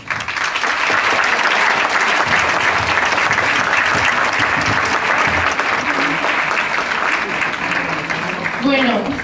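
A crowd applauds steadily and loudly for several seconds at a falla presentation, dense clapping filling the room, with a brief voice near the end.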